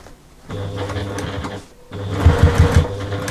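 A sewing machine whirs steadily as it stitches a fabric travel case, running in two bursts separated by a brief pause, close and fairly loud.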